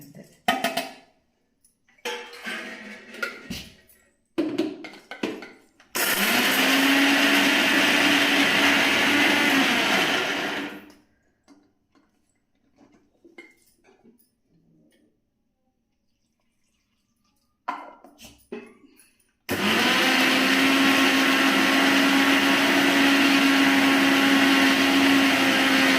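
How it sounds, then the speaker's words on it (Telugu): An electric kitchen mixer grinds raw coconut, green chilli, coriander, tamarind, lentils and salt for dosa batter in two loud steady bursts, separated by quiet stretches with brief clatters and handling sounds. "దోశ, కొబ్బరి, పచ్చిమిర్చి, కొత్తిమీర, చింతపండు, పప్పులు, సాల్ట్ అన్నీ పచ్చివి అనమాట. అన్నీ గ్రైండ్ చేసేది తిరువాత పెట్టాను అంతే."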